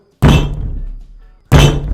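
Two heavy, dull thunks a little over a second apart, each a solid blow against a watermelon wrapped in rubber bands that doesn't break, with a short ringing decay.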